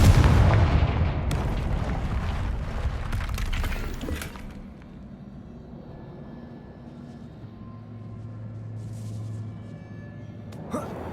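A Confringo fire spell blast in Hogwarts Legacy: a loud booming burst with crackling debris up front, fading into a low rumbling tail and a quiet ambient hum, ending with a faint sharp click.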